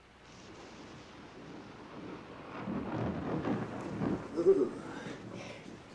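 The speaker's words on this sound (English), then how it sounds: "It's like a storm coming." A thunderstorm rumbles in a long low swelling roll that builds and peaks before easing off, with steady noise like rain or wind beneath it.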